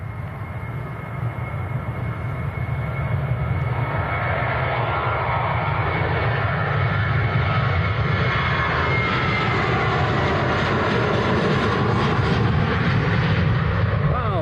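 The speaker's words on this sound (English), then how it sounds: "Typical Jet 2 rolling long." A Jet2 airliner rolls down the runway at Manchester Airport, a loud, steady roar of jet engines lasting throughout with a broad rumbling hiss and no break.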